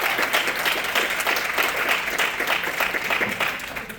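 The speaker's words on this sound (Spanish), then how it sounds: "Dale un fuerte aplauso al Señor." Strong, steady applause from a church congregation, dense clapping filling the room at even loudness for the whole stretch and tapering slightly at the end.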